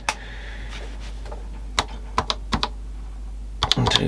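Plastic keys on a Toshiba BC-0802 calculator keypad are pressed one at a time, giving close, sharp clicks at irregular intervals with a quick cluster near the end, over a faint steady hum.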